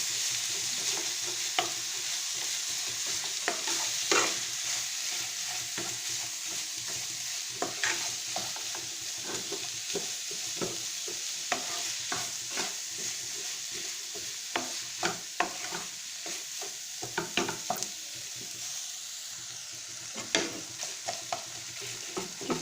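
A savory filling frying in a pan and being stirred, a constant crackling sizzle broken by frequent scraping and clacking strokes of a utensil, close and steady throughout.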